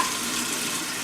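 About two and a half cups of water poured into a pot for cooking rice, a brief, soft, steady splashing rush heard close up with no talking.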